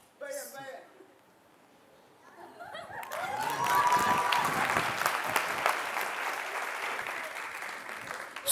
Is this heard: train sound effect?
no